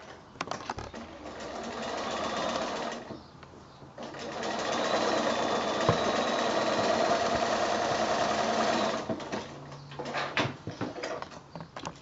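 A sewing machine stitches quilt strips onto one side of a nine-patch block in fast, steady bursts. It runs in two longer stretches separated by short pauses, with soft handling clicks and fabric rustle between them.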